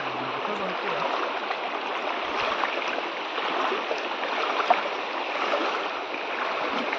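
A swollen river rushes steadily after water is released from an upstream dam, giving a constant, broad roar of flowing water that stays even and close for the whole stretch.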